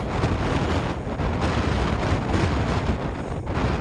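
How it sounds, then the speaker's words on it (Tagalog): Very strong wind roars on Comeragh Mountain near Mahon Falls, buffeting the microphone as a loud, steady, broadband rush for the whole stretch, with no speech over it. "sobrang lakas ng hangin mga katropa"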